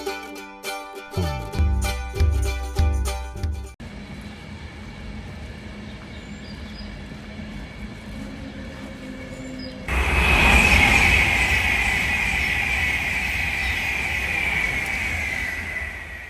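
Heavy rumbling of a train rolling past on a railway line, loud and broadband, rising sharply partway through and staying strong to the end, after an earlier stretch of clattering.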